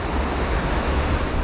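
Sea surf washes up onto a wet, seaweed-strewn shore near a road, a steady broad roar of breaking water mixed with wind buffeting the microphone, with no voices.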